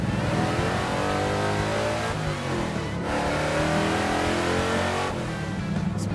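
Fast car engine revving hard and accelerating, a loud continuous roar with shifting pitch throughout, recorded close from inside or beside the car during a road drive.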